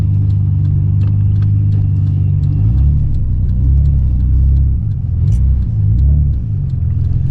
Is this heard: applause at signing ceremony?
no